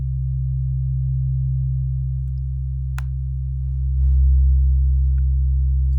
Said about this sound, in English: This is a nice low 64 Hertz C.